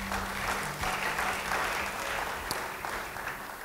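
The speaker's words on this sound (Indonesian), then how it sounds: "Beri tepuk tangan bagi dia." Church congregation applauding during a worship service, a steady wash of clapping that runs throughout at moderate level.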